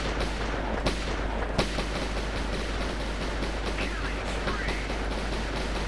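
A grenade blast and gunfire in the mobile shooter Guns Rush: a steady roar of game noise broken by a few sharp cracking hits, with occasional talk underneath.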